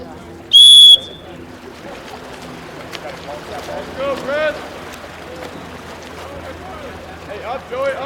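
A referee's whistle blows once, a short shrill blast at a men's water polo match in a pool, over echoing crowd noise and splashing, with commentary and voices talking through the rest.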